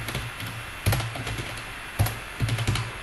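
Clicky keystrokes on a computer keyboard while entering a formula in MS Excel, a few scattered taps then a quick cluster of presses near the end, close and fairly quiet with no talking.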